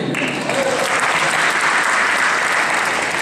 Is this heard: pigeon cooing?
no